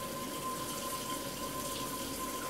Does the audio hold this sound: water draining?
yes